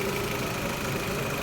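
Car air conditioning compressor with an electronic valve running on a test bench, a steady, close mechanical drone with a constant hum and no change over a moment.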